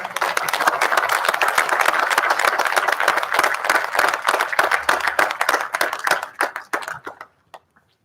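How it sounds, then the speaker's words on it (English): Sustained audience clapping at a NATO award ceremony, dense and steady for about six seconds before thinning to a few scattered claps and fading out. "we can give a round of applause to all of you who contribute to the success of ACT"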